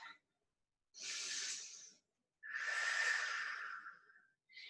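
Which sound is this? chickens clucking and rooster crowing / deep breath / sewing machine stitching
deep breath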